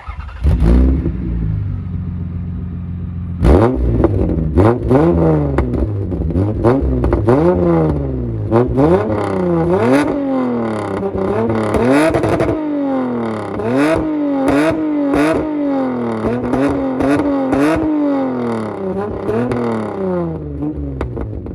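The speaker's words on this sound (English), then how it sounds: "The exhaust does sound really crisp for what it is. So let's take a listen to it." The exhaust of a 1999 Lexus ES300 sedan revs repeatedly in rising and falling bursts, loud and close, with a steady idle rumble between pulls.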